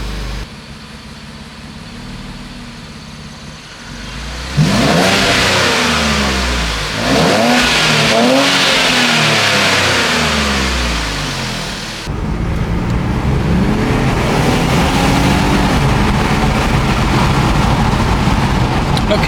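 An Infiniti Q60 with a modified exhaust pulls hard under full-load acceleration, its engine rising in a loud, rumbly roar that climbs through the gears, steady and close with road noise beneath.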